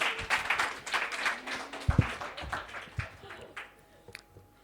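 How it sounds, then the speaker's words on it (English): An audience at an Ignite Talks event applauds a speaker, clapping near and fairly loud at first, then gradually thinning into scattered claps and fading out, with a few voices mixed in. "Can we give Lee a big round of applause?"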